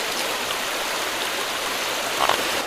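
Creek water flowing steadily outdoors, a constant broadband rush with no talk over it, near and even throughout.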